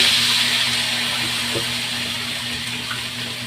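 Water runs steadily into a pot, a continuous bright splashing rush that slowly softens, with a low hum in the background.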